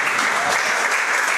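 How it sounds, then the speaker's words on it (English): Audience applause at a coach talk event at Fern in the Wild, a dense steady wash of clapping filling the whole moment, loud and close with no pauses. "How about a big round of applause"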